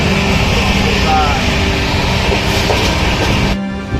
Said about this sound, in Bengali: ফাইনালি আমাদের ট্রেন আসছে